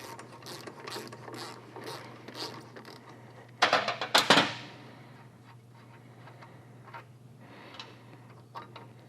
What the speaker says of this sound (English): So let me grab the wrenches to do that, and we'll get these guards off and get this shock disconnected